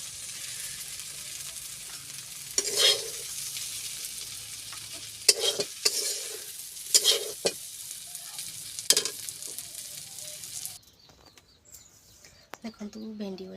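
Okra (bhindi) frying in a pan, with scattered scraping stir strokes over a soft background sizzle, some sharp clanks, and faint birdsong outdoors near the end.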